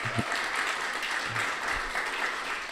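Audience applause fills a demo day pitching event hall, a dense steady patter of clapping hands lasting throughout, fairly close and full, with a faint voice briefly heard beneath it.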